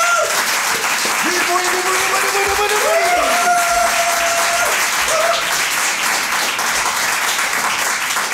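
A theatre audience applauds steadily to welcome a comedy show, the clapping loud and continuous throughout, with voices and tonal sounds running over it.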